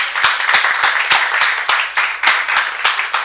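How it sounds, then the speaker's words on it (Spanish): Applause from a seminar group closing an emotional-freedom session, steady clapping with some distinct individual claps standing out, loud and close throughout. "y un aplauso"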